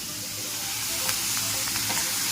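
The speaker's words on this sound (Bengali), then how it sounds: "এটা ফ্রাই করে নিই।" Beetroot, carrot, cucumber and onion frying in a pan for an egg roll filling, a close, even sizzle with light stirring scrapes running throughout.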